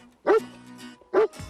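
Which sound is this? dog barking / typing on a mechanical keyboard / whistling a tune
dog barking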